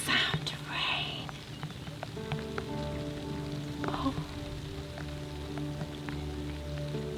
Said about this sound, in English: The sound of rain.